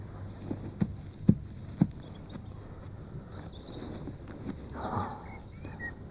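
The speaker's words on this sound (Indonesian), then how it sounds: "Saya ambil kuda dulu." A horse's hooves knocking in a few sharp, spaced clip-clops, then softer shuffling, set in an Indonesian period drama with a faint background hum.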